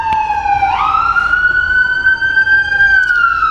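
Emergency vehicle sirens wail continuously, their pitch sweeping up and holding, loud and close, with road noise underneath.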